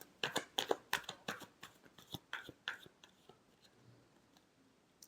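Tarot cards being shuffled produce a quick run of soft, close riffling slaps and taps for about three seconds, then a few scattered light clicks in near silence.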